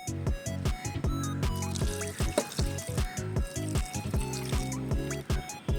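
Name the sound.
water poured into mashed jackfruit to cook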